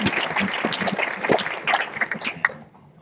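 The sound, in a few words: audience applause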